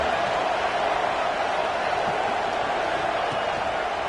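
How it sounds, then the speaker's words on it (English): A stadium crowd roars in a steady, dense wash of noise throughout a college football video game, Cal against Texas, with no distinct peaks or breaks. "Listen to the crowd energy here in the early going."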